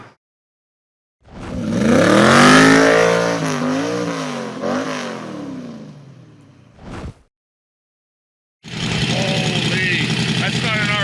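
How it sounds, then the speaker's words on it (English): An American muscle car's warmed-up engine revs loudly and close, rising and falling through several throttle blips, then cuts out before another burst of roaring engine noise; a voice speaks briefly over it. "That's American muscle. Give it a little rev now that it's warmed up."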